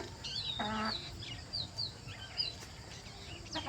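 Chicks in a biscuit carton and nearby hens cheep and cluck softly, with high chirps scattered throughout and one brief louder cluck, faint and somewhat distant, with no voices.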